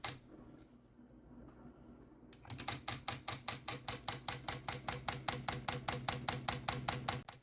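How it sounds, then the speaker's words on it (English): A quiet hum gives way to sharp mechanical tapping, a solenoid striking a game controller button in a fast, perfectly even rhythm, loud and close. "It is pretty loud and the solenoid is pretty strong"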